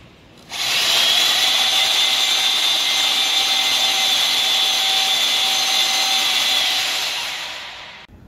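A portable lifter runs with a steady high motor whine and a rotating reel, starting abruptly and holding a constant tone for several seconds before winding down, loud and close with no talk.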